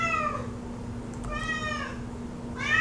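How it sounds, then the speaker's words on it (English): A house cat meows three times indoors, close and clear, each call a drawn-out rising-falling cry spaced about a second apart over a constant low electrical hum. "Dude only wants to meow when I'm filming videos."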